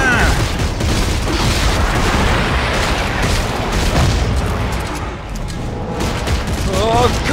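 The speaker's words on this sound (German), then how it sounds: "Dem Vieh schieße ich die Beine ab." Dead Space 3 co-op combat, weapon fire blasting at a creature's legs, a dense, loud, continuous barrage of booms and mechanical clatter with no pause.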